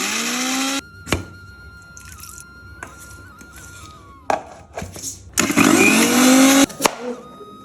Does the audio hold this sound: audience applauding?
no